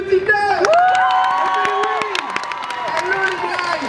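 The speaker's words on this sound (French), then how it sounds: "On applaudit très très fort Hamster, Michel et New Tinder." A crowd claps and cheers loudly, with whoops and shouts rising over steady applause throughout.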